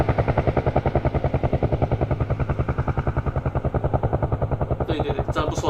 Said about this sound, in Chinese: 就是直升机的前这样绕着你一圈这样子啊。